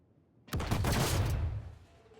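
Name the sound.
explosive barrels exploding in Star Citizen video game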